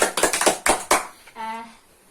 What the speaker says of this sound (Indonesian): Berikan tepuk tangan untuk teman kalian